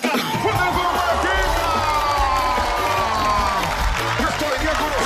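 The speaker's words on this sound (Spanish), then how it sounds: "Hermano, recibamos con un fuerte aplauso a Keka" A theater audience at a television variety show claps and cheers loudly for an arriving guest, with excited shouting and voices layered over sustained applause.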